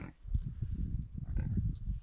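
Pigs in a farm pen grunting in a dense run of low, rough snorts and oinks, close by and fairly quiet, with no talking.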